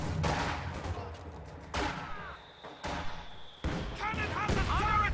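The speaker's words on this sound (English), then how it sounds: "heavy mortar pounding away at the battle group headquarters" Heavy mortar firing in the World War II strategy game Company of Heroes 2, a series of loud thumping blasts and impacts in irregular bursts, with a voice talking over the battle noise.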